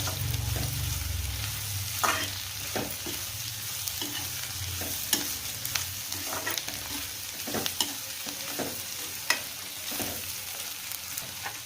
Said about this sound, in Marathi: आता याच्यात आपण जिरं टाकतो. जिरा पण होऊ द्यायचा.